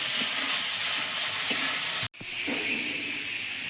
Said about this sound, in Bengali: দিয়ে আলুর সঙ্গে ভালো করে মশলা কষিয়ে নেবো।